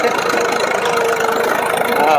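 An Eicher tractor pulling a cultivator through a field runs at a steady, loud mid-pitched drone, close by and continuous.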